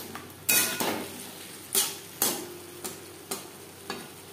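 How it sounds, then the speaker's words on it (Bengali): A utensil scrapes and clinks against a pan about seven times in an uneven rhythm as potatoes are stirred with spices, with a soft sizzle underneath and no talking. "মশলার সাথে আলু আরও 4-5 মিনিট রান্না করব"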